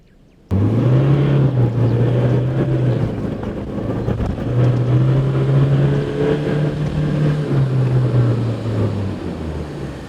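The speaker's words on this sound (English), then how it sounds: "One last time, I'm going to go through the thick sand here." A Toyota Hilux N80 in low-range four-wheel drive ploughing through thick sand, its engine droning loud and close with rising and falling throttle surges and wind buffeting over the microphone.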